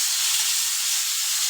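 Tomato paste fries with potatoes and onions in hot oil, giving a loud, continuous hiss of sizzling close by with no pauses.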